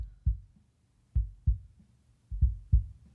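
Raw kick drum picked up by the kick out mic, heard as six dull, boomy low thumps in an uneven rhythm. The hits are close and moderately loud, with quiet gaps between them and no talk.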